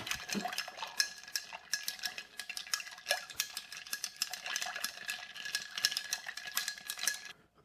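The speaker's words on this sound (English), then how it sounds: "And give it a little stir." A spoon stirs ice in a cocktail glass for a creamy dessert cocktail, making a steady run of rapid, bright clinks and rattles close by for several seconds, with no voices.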